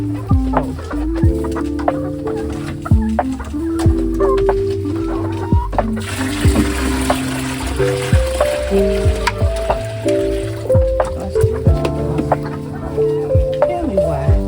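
Many farm chickens, including a rooster, cluck steadily in a loud, busy chorus, with rapid overlapping clucks from several birds nearby and brief scattered noises throughout.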